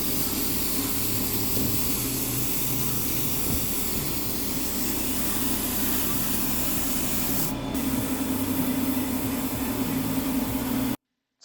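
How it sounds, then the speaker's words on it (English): A continuous spray gun hiss applying adhesive during a cabinet remodel on a Bayliner Ciera 2450 boat runs steadily for several seconds at close range, mixed with a low mechanical hum, then cuts off abruptly. "I'm gonna spray this way so it don't get on it."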